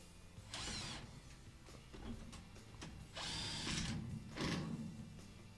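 A power screwdriver drives screws back into the top panel of a Whirlpool WTW4930XW3 washer, with three separate whirring bursts and quieter handling clicks between them, close and without speech.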